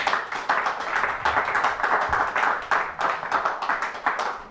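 Church congregation clapping to acclaim the Lord during a worship service, a dense, steady wave of many hands clapping with rhythmic pulses throughout, fairly close and loud, no speech over it.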